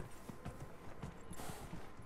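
Horse hooves clip-clop in a steady walking rhythm in Dragon Age: Inquisition, several evenly spaced moderate hoofbeats heard alone over faint ambient noise.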